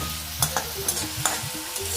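Cauliflower sizzles in a hot frying pan while a utensil stirs it, giving soft scraping knocks at irregular intervals over a steady crackling fry.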